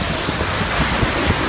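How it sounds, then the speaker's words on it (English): Hurricane Harvey winds gust over the Texas coast at 110 to 125 mph, a dense roaring rush that buffets the microphone in a brief, continuous blast with small surges. "The winds, it's really bad here. Winds are gusting to 120, 110."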